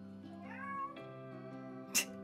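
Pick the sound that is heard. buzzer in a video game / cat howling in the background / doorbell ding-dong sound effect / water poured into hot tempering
cat howling in the background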